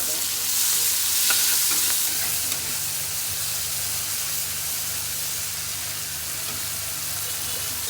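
Prawns frying in a pan until lightly browned, giving a dense, continuous sizzle with bright spattering hiss, loud and close, with a low steady hum underneath and no voices.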